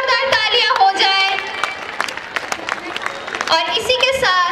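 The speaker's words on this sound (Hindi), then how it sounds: "इनके लिए एक बार जोरदार तालियां हो जाए" Audience applause and crowd noise at a school annual day function, a continuous loud mass of clapping lasting several seconds and swelling again toward the end, with voices mixed in.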